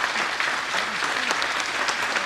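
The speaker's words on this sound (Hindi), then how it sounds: "जोर से ताली बजाइए।" A college audience at a forestry campus claps loudly and continuously, a dense, close burst of applause with no distinct voices.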